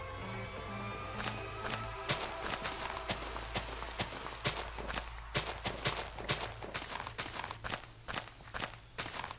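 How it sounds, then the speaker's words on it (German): Steady, evenly paced footsteps of a player character in Minecraft, crunching on the ground with a continuous low hum beneath, no speech. "Ich höre mal Schritte. Das sind meine eigenen Schritte."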